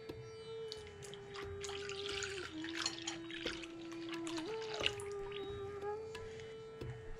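Milk poured into waffle batter in a home kitchen gives a steady, soft liquid trickle and splashing that runs for several seconds, fairly quiet, with a faint constant hum behind it and no talking.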